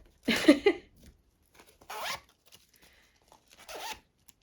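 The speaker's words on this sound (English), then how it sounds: "The zip's a bit bumpy on that one, but it just about still works." A cheap fabric zip bag, like a pencil case, unzipped and zipped again with a slightly bumpy zipper: one loud close rasp followed by several quieter, shorter zipping strokes, no talking.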